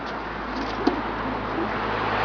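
Soft pigeon coos over a constant background hum, with a brief faint chirp partway through.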